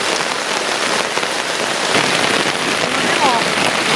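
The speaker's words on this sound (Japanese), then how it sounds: "いやー、びっくりする大雨。" Heavy downpour drums steadily on a single-wall tent pitched in a forest, a dense, loud, continuous hiss of rain on fabric with no pauses.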